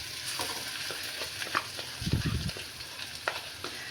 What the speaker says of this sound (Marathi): तर आता ह्याच्यामध्ये ना आपण वाटण टाकूया.